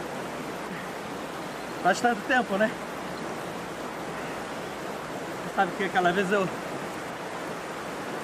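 Waterfall rushing as a steady broadband hiss throughout, with two short stretches of people talking over it.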